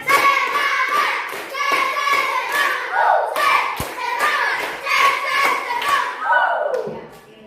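Schoolchildren in a classroom clapping in quick rhythmic bursts, loud and close, with children's and a teacher's voices mixed in throughout.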